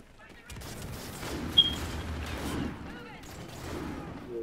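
Gunfire rattles in a multiplayer match of the video game Call of Duty: Infinite Warfare, with bursts of shots and mechanical clatter at moderate level over a few seconds.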